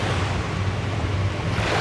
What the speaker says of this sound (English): the water here doesn't look like it from the lens, but it's super rough and angry